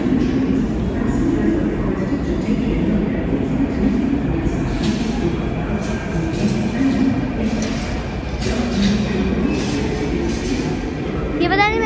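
A metro train rumbles steadily with a low roar and faint rail clatter, a brief squeal near the end.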